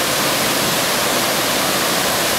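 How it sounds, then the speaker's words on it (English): Waterfall at Watertown on a summer afternoon: a steady, loud, broadband rush of falling water fills the whole stretch without a break, close and continuous, with no voices. "Watertown at the waterfalls"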